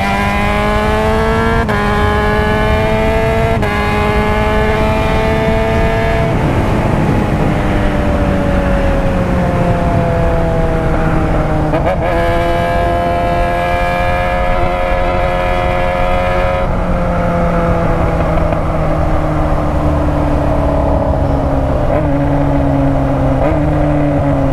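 A Yamaha Fazer 600 (FZ6) motorcycle with an aftermarket exhaust revs up and down repeatedly, its pitch climbing and falling in long sweeps, close and continuous.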